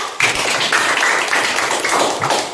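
Schoolchildren clap together in a classroom, a dense, loud burst of applause that starts abruptly and continues for a couple of seconds before tapering slightly.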